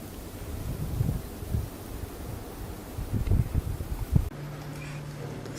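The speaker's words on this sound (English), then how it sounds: "The wind blowing, you can barely see out in that field." Steady wind gusting across an open field behind a house during a 2011 Illinois blizzard, a broad continuous rush with rumbling surges, close to the microphone and without speech.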